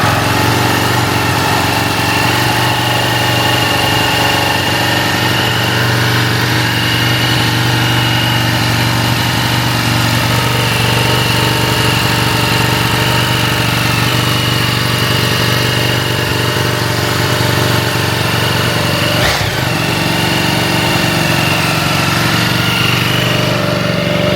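A brand-new 2026 Ducati motorcycle engine idles steadily and loudly close by for the whole stretch, with a brief burst of noise near the end and no talk.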